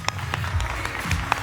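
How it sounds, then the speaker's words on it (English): Applause for a blockchain-democracy panel at a conference, a steady wash of many hands clapping across the room with crowd noise underneath. "Huge round of applause for the panelists on building democracy on blockchain"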